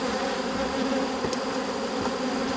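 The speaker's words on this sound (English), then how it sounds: "The bees tend to be more aggressive down here in the bottom box." Honeybees swarm around the open bottom box of a hive, a dense, loud, continuous buzzing drone that fills the air at close range.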